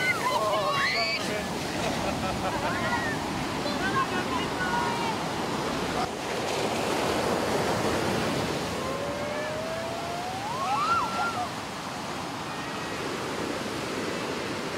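High-tide surf at Kuta Beach, Bali, with waves around five metres high, rolling in as a continuous loud wash of broadband noise. Faint whistles or calls rise briefly above it, and voices are mixed in.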